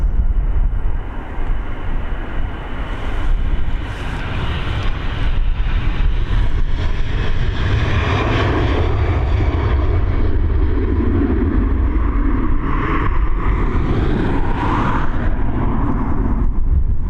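An airliner bound for London Heathrow takes off from Dublin Airport, its engine roar building and shifting over many seconds with a deep rumble and a rising, varying whine, close and loud, no talk.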